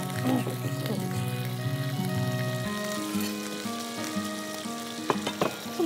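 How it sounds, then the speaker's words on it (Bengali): Rohu fish shallow frying in hot oil sizzles steadily and close, a dense crackle running the whole time beneath a tonal music bed, with a few sharper pops near the end. "আমি এখন মাছটা হচ্ছে ভেজে নিব। এটা খুব শ্যালো ফ্রাই করব"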